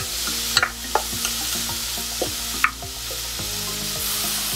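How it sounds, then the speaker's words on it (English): Mixed vegetables sauté and sizzle in a pan, with a steady frying hiss and rhythmic scraping and knocking of a spoon stirring against the pan. "let's just saute for 3 to 4 minutes so that vegetable will cook properly"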